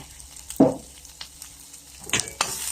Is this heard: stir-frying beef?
yes